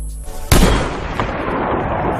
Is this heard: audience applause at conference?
no